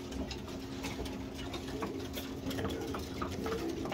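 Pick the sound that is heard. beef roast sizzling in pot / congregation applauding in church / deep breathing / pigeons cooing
pigeons cooing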